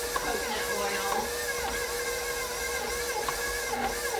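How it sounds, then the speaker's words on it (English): A stand mixer creams butter, sugar and coconut oil for salted caramel chocolate chip cookies, giving a steady whirring hum with a scraping, churning texture, fairly close and continuous throughout. "I let the machine do the butter and sugar and the coconut oil"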